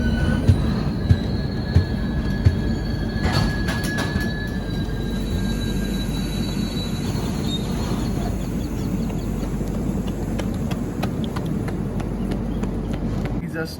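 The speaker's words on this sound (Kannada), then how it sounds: "ಈಗ ಜಸ್ಟ್ ನಮ್ಮ ಟ್ರೈನ್ ಬಂದತ್ರಿ ಮದ್ದೂರ್ಕ" Golgumbaz Express pulling into Maddur station, heard from inside a third AC coach: a steady low rumble of rolling wagons with high wheel squeals and a few sharp clanks early on, close and continuous, with voices in the carriage.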